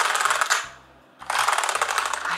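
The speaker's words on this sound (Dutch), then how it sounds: "Klinkt naar een nieuw toetsenbord." A new mechanical keyboard with red switches is typed on up close, its keys clacking in two dense bursts of rapid strokes split by a brief pause, loud and crisp, with no voice.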